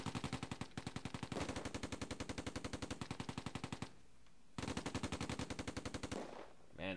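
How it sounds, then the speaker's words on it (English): Rapid automatic gunfire in the World War II strategy game Close Combat: A Bridge Too Far, long sustained bursts of evenly spaced loud shots with a brief pause midway, no talking. "I know they're shooting you."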